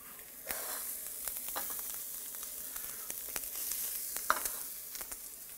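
Duck breast sizzles steadily as it fries in oil in a pan, a continuous close crackle with scattered sharp pops and no talking.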